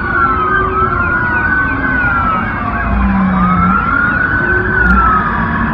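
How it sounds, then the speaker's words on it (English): Police car sirens wail continuously outside a mall in Miami, their pitch sweeping up and down in long cycles, loud and steady throughout with no one talking. "why are they just letting the police sirens run the entire time?"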